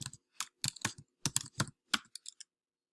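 Computer keyboard typed in bursts of quick clicks while entering network commands such as hostname and ifconfig in a PowerShell session, close and clear, with a short fast flurry at the end and no voices.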